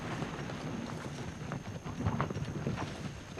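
A working horse clip-clops steadily on the ground nearby, its hooves beating an even rhythm over light wind noise, with no talk.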